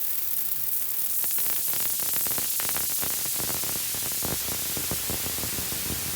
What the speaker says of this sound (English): So in the high pass filter, when I scroll down from this setting to a bit lower, you can hear the effect of it.